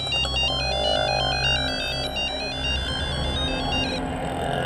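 A repeating electronic phone ringtone plays a bright looping melody over a low background hum, continuing steadily for several seconds.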